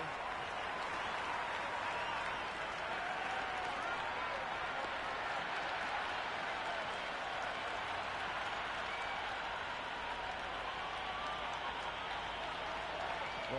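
A stadium crowd in the Cricket 26 video game keeps up steady applause and cheering throughout a T20 match between India and Pakistan legends teams.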